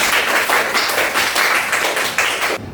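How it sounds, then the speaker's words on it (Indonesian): A class of students claps for a classmate in a teaching-practice lesson, dense steady clapping from a small group filling the room nearby, then cutting off abruptly near the end. "tepuk tangan buat Mas Ian"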